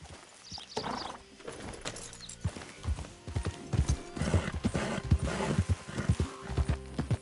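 A horse gallops in Red Dead Redemption 2, its quick clip-clop hoofbeats rising and falling over rough ground, with brief snorts and tack noise, fairly close and without speech.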